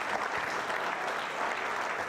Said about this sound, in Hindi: तालियां जोरों से बजाइए सभी के लिए